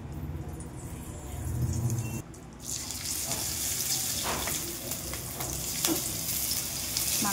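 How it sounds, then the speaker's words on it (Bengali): Oil goes into a hot wok at a restaurant-style chilli chicken stove, and a sudden bright hiss and sizzle rises and holds, with faint clatter and background kitchen noise. "আমি কড়াই তেল দিয়ে দিচ্ছি"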